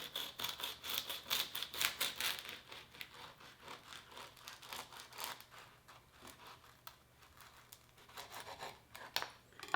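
A knife cuts through an ice cream cone cupcake, giving a series of close, crisp crunching and scraping strokes that are loudest early on and then fade into softer cutting noises.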